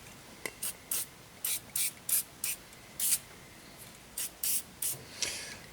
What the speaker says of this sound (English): take my lube, and we'll spray everything down and let it soak for a minute